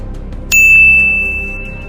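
One bright notification bell ding rings out close and loud, its clear tone lingering and slowly fading over a low musical bed.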